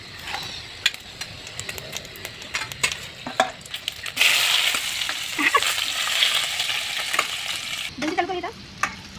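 Onions hitting a hot pan for Maggi noodles, a sudden loud sizzle surging in midway, with scattered clinks and scraping of a utensil before and around it and a brief stir near the end.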